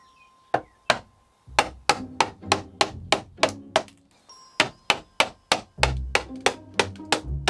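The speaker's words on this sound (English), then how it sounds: "I'm going to have to take the trim off nice and quickly, nice and elegantly" Trim is knocked and pried off a camper van wall with a rapid series of sharp, close knocks and cracks, around a dozen in uneven rhythm with brief pauses, no talking over them.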